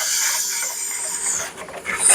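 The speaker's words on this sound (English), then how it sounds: "220 sanding. Get it nice and sanded up here." Wood being sanded by hand with 220 grit sandpaper, a close, continuous rasping hiss with slight back-and-forth swells in loudness over about two seconds.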